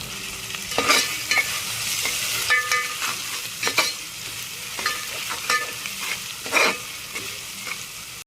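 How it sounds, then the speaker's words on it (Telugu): Mint, curry leaves and coriander frying in a pan for prawn biryani, a steady close sizzle broken by repeated scraping stirs and clinks of the spoon, with no talking. "ఇందులోనే పుదీనా, కరివేపాకు, కొత్తిమీర వేసుకొని ఫ్రై చేసుకోవాలి"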